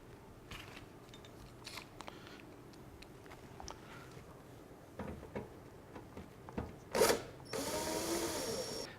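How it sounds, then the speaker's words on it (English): Eight screws being removed from the metal wrapper of a KJ468F unit, with small clicking and ratcheting tool sounds scattered across the clip, then a louder burst of whirring power-driver noise near the end. "The next part we're going to remove is this metal wrapper here. And to do that, you just simply remove 8 screws"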